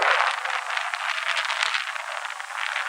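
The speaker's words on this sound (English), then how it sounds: "Sorry about the wind noise, guys." Steady, loud roaring rush of wind off the water on the Brooklyn waterfront buffeting the microphone, broadband and continuous with gusty swells, no voices.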